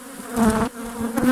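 A honeybee swarm collected from a neighbouring village buzzes around hive frames holding brood, pollen and honey. Close, loud droning with a wavering pitch swells and fades as individual bees pass near.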